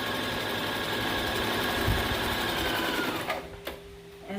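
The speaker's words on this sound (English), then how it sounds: "Put your pressure foot down. Do your seam." A sewing machine stitches a seam on a cloth face mask, running steadily and close for about three seconds before slowing and stopping, with a few light clicks and handling sounds afterward.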